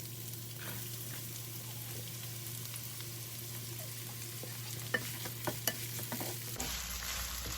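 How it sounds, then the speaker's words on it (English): Onions hit hot oil in a pan while cooking healthy bhindi (okra), giving a steady close sizzle with scattered stirring clicks and scrapes before the tone shifts abruptly near the end. "now that the oil is hot, I'm going to go ahead and put in my onions"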